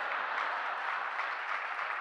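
An audience at a Hindi comedy poetry show applauds in a steady, fairly faint wash of many clapping hands with no break.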